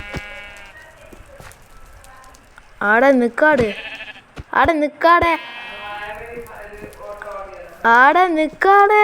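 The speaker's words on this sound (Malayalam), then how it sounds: "എന്ത് ആട് വിശക്കുന്നുണ്ട്" A hungry goat bleats loudly and close by, with several wavering cries in short bursts separated by quieter gaps.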